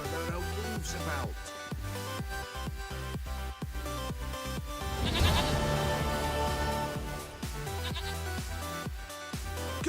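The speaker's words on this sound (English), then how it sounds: "Goat of mine, dearest, sweetest goat." A goat in The Witcher 3: Wild Hunt gives several wavering bleats over the game's background music, fairly close and clear.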